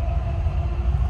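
Inside a Dubai Metro train, a steady low rumble of the moving carriage fills a brief moment, with no voices.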